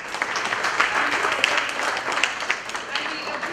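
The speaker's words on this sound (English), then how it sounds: "Please join me in giving our keynote speaker, her Under Secretary, Her Excellency, a big round of applause." An audience at a women's reproductive and sexual health forum gives a keynote speaker a round of applause, steady mid-loud clapping with a few sharper individual claps throughout.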